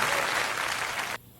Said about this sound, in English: And there's the crowd.